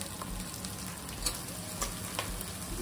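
Pieces of mutton frying in a pan, with a loud, dense, close sizzle crackling continuously and a few sharper spatters and stirring knocks scattered through the brief stretch, no voices.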